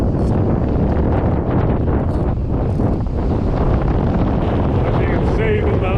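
Strong wind roars steadily across a microphone on a winter shore in Northumberland during cod fishing, a constant loud buffeting with gusts and surf beneath, unbroken for the whole stretch.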